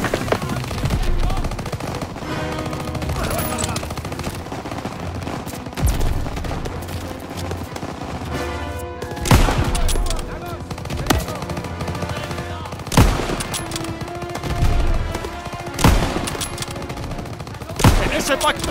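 Dense battlefield gunfire in the Call of Duty WWII video game: continuous machine-gun bursts and rifle shots with several heavy booms, loud throughout, while soldiers shout orders over the fighting.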